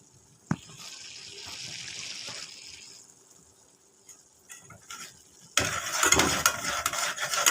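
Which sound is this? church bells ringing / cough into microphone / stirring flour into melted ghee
stirring flour into melted ghee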